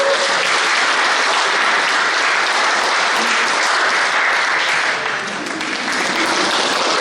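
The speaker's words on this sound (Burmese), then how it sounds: "အားလုံးလက်ခုပ်တီးပေးပါ" Wedding guests clapping together in a dense, continuous round of applause that holds steady and fairly loud throughout, with no break.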